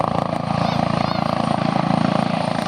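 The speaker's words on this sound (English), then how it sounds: "The orange batons guiding the helicopter nice and gently and slowly into crowd centre." Helicopter being guided in by marshals to land at an outdoor air festival, a loud, steady rotor chop with continuous engine whine, close and dominant throughout.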